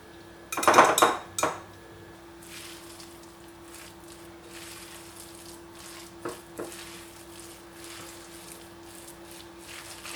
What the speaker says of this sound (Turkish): spatula yardımıyla karıştıracağım